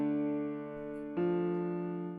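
An equalized piano-style synth tone in FL Studio plays alone, one sustained chord followed by a second, slightly brighter chord about midway.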